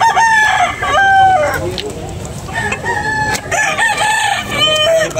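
Roosters crow loudly and repeatedly at a busy chicken market in Carbon, Cebu, with overlapping calls, clucking and a crowd murmur in the background.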